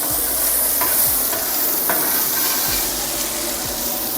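Crispy fried onions for bacon-topped hot dogs tossed on a hot griddle, a loud continuous sizzle broken by several scraping spatula strokes at a steady pace, close up and without talk.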